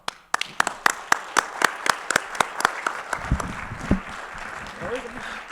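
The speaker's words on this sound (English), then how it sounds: "Let's give Darius Dotch another round of applause" An audience at an MLK celebration event claps in applause, with sharp individual claps at first that build into a steady round before fading under some murmuring.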